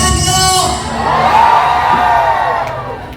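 Festival crowd in Bangalore cheering and whooping, with a loud sustained whoop rising over a dense crowd roar, close and lively.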